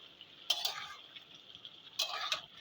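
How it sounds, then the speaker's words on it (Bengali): Duck meat is stirred in a cooking pot, with two short bursts of spoon scraping over a faint, constant frying hiss, quiet and close. "এবার একবার মাংসটা খুলে আর একবার নেড়ে চেড়ে দেবো,"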